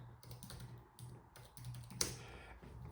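Typing on a computer keyboard, a close, quiet run of uneven key taps in short bursts with one sharper clack partway through.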